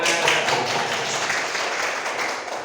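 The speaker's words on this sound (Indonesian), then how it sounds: "Tepuk tangan." Dense, steady hand clapping from a group fills the whole stretch at a fairly loud, even level, with no clear voices on top.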